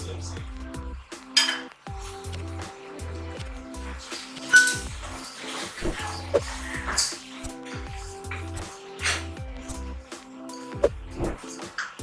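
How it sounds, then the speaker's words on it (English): Jollof rice being stirred in a pot, with repeated clinks and scrapes of a spoon against the metal and some wet squishing, under a low steady hum. "Then I'm going to give it a nice stir."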